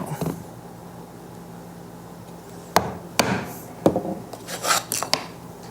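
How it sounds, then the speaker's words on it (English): A 3/4 inch chisel set against a knife wall is struck into wood while cutting dovetails: a few sharp knocks from close by, scattered over a few seconds among light scraping and handling sounds. "I'm going to come in now with the chisel, resting against that knife wall, 3/4 inch chisel, and strike in just like so."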